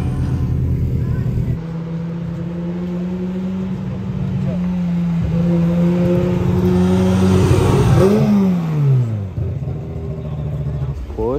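Naturally aspirated V10 of a Lamborghini Huracan supercar at Monterey Car Week, droning steadily then swelling in a rising and falling rev near the end, with people talking over it.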